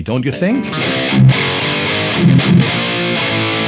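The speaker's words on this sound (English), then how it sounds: "that aggressive top end, and also that kind of two-dimensional sounding distortion, overall slightly harsh" A Marshall Valvestate transistor guitar amp plays harsh, scooped-mid distortion with an aggressive top end, sustained chords ringing loudly for several seconds alongside someone talking over it.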